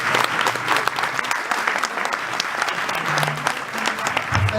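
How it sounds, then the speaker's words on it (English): Audience applause after a speech at the launch of an international scholarship program, lively crisp clapping from a crowd with distinct individual claps, sustained throughout with murmured voices underneath. "I think it deserves a round of applause."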